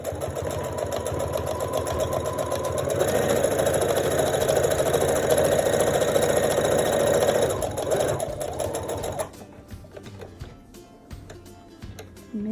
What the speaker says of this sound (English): I have to sew all around the edges.